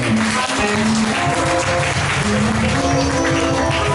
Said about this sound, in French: Alors applaudissez le Seigneur.